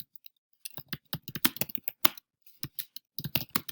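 Someone types an answer into a text box on a computer keyboard: quick, uneven bursts of close key clicks with brief pauses between them.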